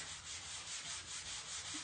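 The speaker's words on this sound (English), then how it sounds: "just give it a real easy go over with the sanding block" Steady, rhythmic rasping of a sanding block rubbed back and forth over a surface, close up with even strokes and no voices.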